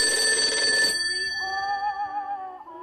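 An old telephone rings, a bright sustained bell tone that cuts off and gives way to a softer wavering ring, heard clearly and alone without any talking.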